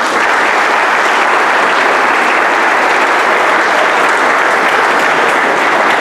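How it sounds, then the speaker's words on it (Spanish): Loud, sustained applause from an audience at a municipal event in Tambo Grande, honoring the town's teachers, a dense steady clapping that fills the whole stretch without a break. "quiero pedirles a todos ustedes un fuerte y caluroso aplauso para todos los maestros y"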